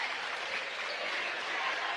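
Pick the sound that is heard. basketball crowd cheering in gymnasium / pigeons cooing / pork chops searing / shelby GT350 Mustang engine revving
basketball crowd cheering in gymnasium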